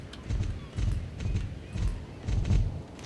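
Horse hooves clip-clopping in the game Star Stable Online, a steady rhythmic series of dull thudding steps, close and fairly loud.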